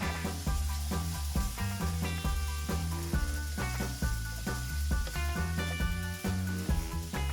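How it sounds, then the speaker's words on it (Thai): Chicken thigh pieces stir-fry dry in a pan with a steady sizzle that runs under louder background music throughout. "ผัดแห้งๆอย่างนี้แหละครับ ไปสักพักหนึ่งเพื่อให้เนื้อไก่สุกให้หมดนะครับ"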